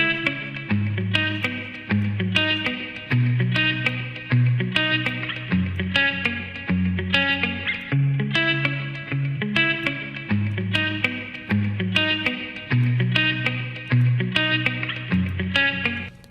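A musical passage processed through a TC System 6000 VSS4HD reverb plays alone, with repeated pulsing chords and notes in a steady rhythm and a lingering reverberant tail between hits.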